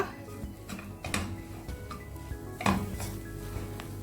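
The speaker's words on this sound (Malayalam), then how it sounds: "ഇതിലേക്ക് 1 കപ്പ് തേങ്ങ ചേർത്തിട്ട് നന്നായി ഇളക്കി കൊടുക്കുക." Grated coconut is stirred in a pan on the stove, heard as soft scraping and a few sharp clinks of the spoon against metal at a low, close level.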